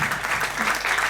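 A church congregation in Sunday worship bursts into applause and acclamation, a short, loud spell of clapping with a slightly pulsing rhythm.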